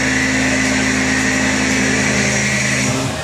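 A Tormach RapidTurn CNC lathe cutting steel parts produces a steady, loud mechanical drone with a constant hum and high whine. It runs continuously with no pauses and tapers slightly at the very end.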